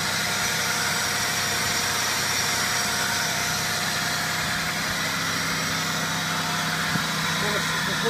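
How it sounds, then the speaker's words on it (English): A 2001 Pontiac Bonneville's 3.8-liter 3800 V6 idles on a test stand, giving a steady, even drone with a low hum and broadband hiss that holds unchanged for the whole stretch. "engine test for a 2001 Pontiac Bonneville"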